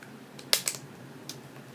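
Scissors cut a plastic Starbucks cup lid in a few sharp, close snips, clustered together and then one more after a short pause, with no talking.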